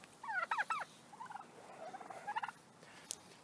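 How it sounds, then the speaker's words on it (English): A turkey gobbles on a farm, a loud close burst of rapid warbling gobbles followed by softer trailing calls and a brief sharp sound near the end, with no talking. "This is gonna be another gobbler right here."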